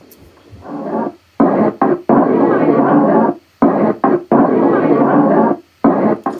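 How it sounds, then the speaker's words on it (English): Bursts of crowd chatter and party noise cut into short, abrupt chunks separated by sudden silences, loud and choppy like a sliced-up sample. "So that's just all the party people chopped up into little bits during the chorus."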